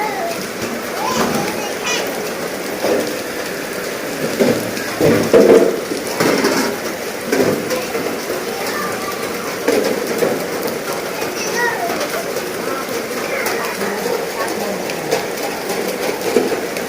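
Heavy rain pours down in a dense, steady hiss of drops spattering on surfaces, continuous for the whole stretch, with people talking faintly underneath.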